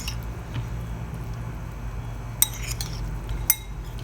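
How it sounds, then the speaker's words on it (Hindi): Soaked sela rice is mixed with orange food colour for zarda, a few soft squishes and light clinks of a utensil over a low steady hum, close and quiet. "इनको अच्छे से मिक्स कर लेंगे।"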